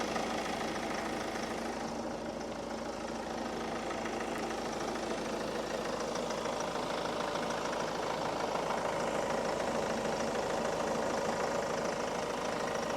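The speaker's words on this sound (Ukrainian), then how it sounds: "Гарна робота мотора." The 2.0 TDCI diesel engine of a 2018 Ford Focus idles steadily up close for the whole stretch, a constant knocking rumble with no speech over it.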